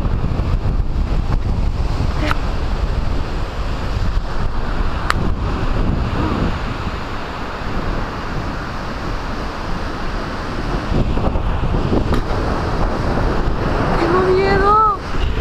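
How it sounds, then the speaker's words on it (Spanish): Strong wind buffets the microphone continuously at close range, a loud rumbling roar with gusts throughout, while voices briefly cut through near the end. "¡Viento culiao, para!"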